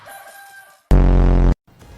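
A rooster gives a single short, loud crow, harsh and close, that cuts in abruptly after quiet background sound and stops just as suddenly.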